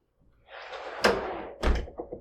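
A door on a mechanic's tool box swings closed with a short rush of movement, then a solid thunk and a couple of lighter knocks, near and fairly quiet.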